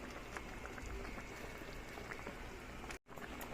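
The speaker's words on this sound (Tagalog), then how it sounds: "Kulo-kulo na siya" Tilapia simmering in coconut milk for ginataang tilapia with pokchoy, giving a steady, close bubbling hiss with soft pops that runs unbroken, apart from one brief dropout near the end.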